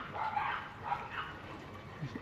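Dogs set off by a delivery arrival bark repeatedly in the distance, faint and muffled, over a steady domestic background hum from a washing machine running indoors.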